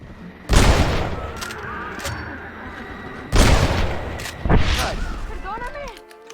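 Gunfire in the Western video game Red Dead Redemption, three heavy booming shots spaced apart with ringing tails, a voice speaking between them.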